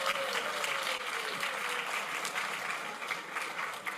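Audience at a 1920s-themed book debate event claps for costumed guests, a steady, moderately distant wash of many hands applauding throughout, fairly faint.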